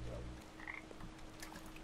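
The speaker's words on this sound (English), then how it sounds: "I'm killing all of the frogs." Frogs croak repeatedly in the video game Papo & Yo, a few short close calls over a low steady background hum, with no talking.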